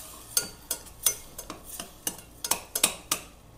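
A spoon scrapes and clinks in quick irregular strokes against a cooking pan while a spice mixture with a spoonful of salt is stirred, close and crisp with no voices.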